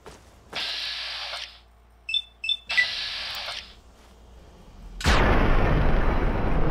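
Grenade explosion in Fallout 3: a sudden loud blast at about five seconds that swells into a sustained roar, preceded by bursts of game effects and short clicking pops.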